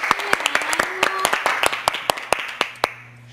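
A small team of students clapping for a teammate: about a dozen sharp, uneven hand claps close by over three seconds, with voices talking over them, tapering into quiet at the end.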